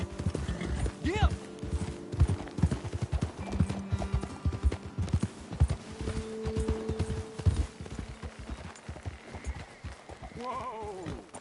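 Horses' hooves clip-clopping steadily at a trot in Red Dead Redemption 2, close and rhythmic, with a horse whinnying and game dialogue over the top.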